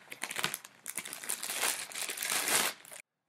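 Plastic wrapping crinkles steadily as a boxed Lowrance Elite 4x HDI fish finder unit is set down on it, a close, continuous rustle lasting about three seconds before stopping abruptly.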